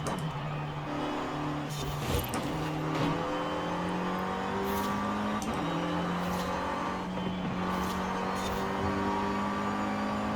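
A car engine in Forza Horizon 5 repeatedly revs up under full throttle, with quick gear changes dropping the pitch before it climbs again, loud, close and continuous with no voices.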